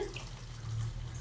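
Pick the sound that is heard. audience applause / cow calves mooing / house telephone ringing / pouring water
pouring water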